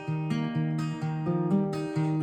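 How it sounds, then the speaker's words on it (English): Strummed acoustic guitar playing a song's verse, with steady chord changes in a repeating strumming pattern, close and clear with no voices. "the next part up is going to be the strummed version of the verse"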